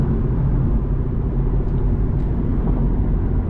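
A Q50 car driving, heard from the cabin as a steady, loud low rumble of engine and road noise with no talking.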